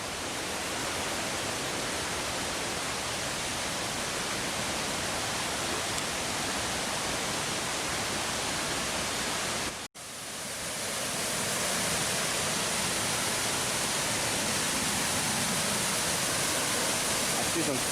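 Mae Pan Falls in the Chiang Mai jungle, a violent torrent of clear water roaring loud and constant at close range, broken only by a brief dropout midway.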